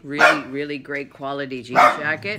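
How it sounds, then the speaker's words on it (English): A pet dog barks and yips in short sharp bursts indoors, nearby and fairly loud, interleaved with someone talking about clothes. "Oh, sorry, that's my dog."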